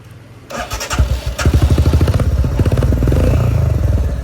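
A Royal Enfield Himalayan motorcycle, just repaired after a breakdown, cranks and fires up at about half a second, then settles into a steady, loud, close idle with a clattering single-cylinder thump.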